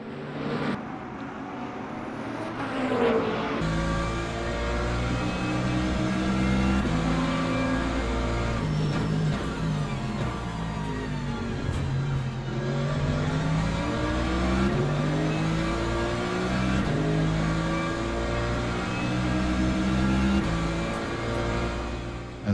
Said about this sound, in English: As another hypercar goes through, lots of traffic now coming through.